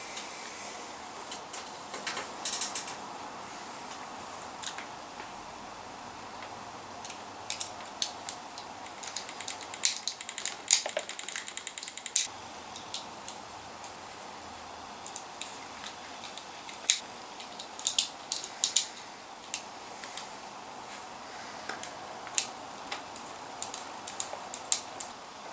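Small screws being driven by hand into the chassis of a Tamiya Grand Hauler RC truck kit, heard as faint, close, irregular ticking and clicking scrapes spread throughout, with no talk.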